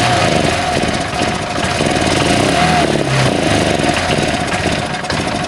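A 2001 Honda CH80 scooter engine runs steadily while warming up after long storage, its close, loud buzzing idle holding an even rumble throughout with no talk over it.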